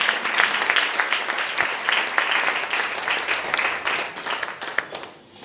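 A church congregation claps and applauds together in a sustained, dense wash of hand claps that fills the room and fades slightly toward the end.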